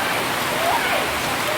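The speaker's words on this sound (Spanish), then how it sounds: "por aquí solamente ha caído un poco de agua" Steady rain falling during tropical storm Franklin, a dense continuous hiss of drops on surfaces outdoors, fairly loud and even throughout with no talk.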